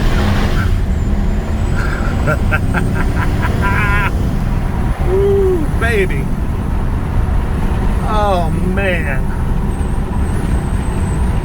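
A 2014 Chevrolet Caprice police car with a 6.0 V8 accelerates hard in a loud, steady engine roar heard from inside the cabin, with the occupant's excited exclamations over it.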